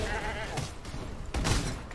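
Goat mage enemy bleating in the Path of Exile video game, a short sheep-like bleat sounding twice over busy combat noise in about two seconds.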